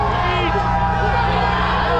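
Motocross race crowd gathered at the podium, a dense, loud wash of crowd noise and babble with faint whoops and cheers, close and steady throughout.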